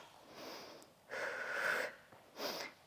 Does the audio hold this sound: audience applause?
no